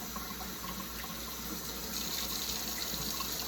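Tap water runs steadily over a cast iron pan being rinsed in a sink, a continuous close splashing gush with no speech.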